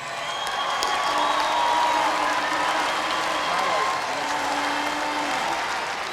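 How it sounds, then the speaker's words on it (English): A large stadium crowd applauds and cheers the Canterbury rugby team after the 2000 NPC Grand Final against Wellington, steady clapping and crowd roar filling the whole stretch, with an announcer's voice carrying over it. "can we have a big round of applause, please, for the entire Canterbury rugby team"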